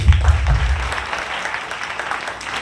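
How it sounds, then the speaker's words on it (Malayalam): A crowd applauds in a hall during a talk, with dense overlapping clapping that is loudest at the start and then thins slightly while continuing to the end. "കൈയടിച്ച്"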